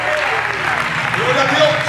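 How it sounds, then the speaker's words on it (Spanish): A church congregation applauds together during a sermon, a dense steady wash of clapping with voices and faint tonal sounds mixed in. "Denle un aplauso al Señor con todo su fuerza."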